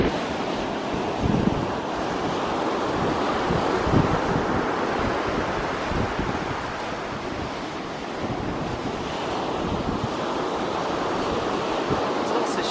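Waves wash continuously onto the pebbly beach at Porthleven, Cornwall, a broad steady roar of surf mixed with wind buffeting the microphone, with no voices heard.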